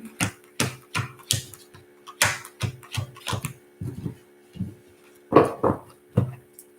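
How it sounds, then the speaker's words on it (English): Tarot cards being shuffled by hand, giving a series of sharp, close riffling snaps and taps in an irregular rhythm, alone without talk. "Let's get these cards mixed up."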